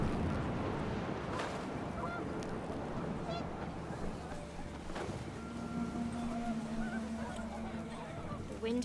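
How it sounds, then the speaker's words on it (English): Panicked geese honk in the video game What Remains of Edith Finch, several scattered calls over gusting wind and a low steady rumble, fairly busy and continuous throughout. "The wind picked up, and panicked geese appeared and quickly went."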